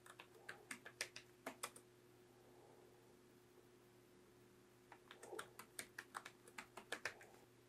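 A password typed on a computer keyboard, with quick bursts of light key clicks separated by a quiet pause over a faint steady hum.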